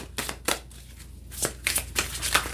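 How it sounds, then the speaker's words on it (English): Round tarot cards being shuffled by hand, a few quick riffling bursts of stiff card stock slapping and sliding, close up and moderately loud with brief pauses between. "It's a little bit different shuffling round cards."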